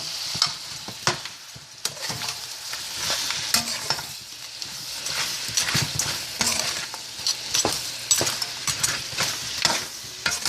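Rice with pigeon peas, crab, shrimp and sausage stirred in a pot, spices just added, with repeated scraping and clinking strokes of a spoon over a low sizzle, close and fairly loud.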